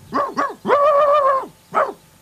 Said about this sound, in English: Rufus barked and barked